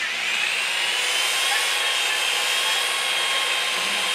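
Continuous hissing, rasping drone of a hone run by hand through a valve guide of a 1973 Volvo engine, steady and close with no pauses.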